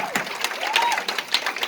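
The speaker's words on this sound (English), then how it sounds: "can we just give a round of applause for the organisers?" Audience applause and light cheering for organisers at a fan convention panel, a short burst of clapping with scattered whoops and a few voices mixed in.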